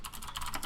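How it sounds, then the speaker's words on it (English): Rapid typing on a computer keyboard during a tabletop gaming session, a quick run of close, crisp key clicks under a second long with no talk over it. "All the typing going on everywhere."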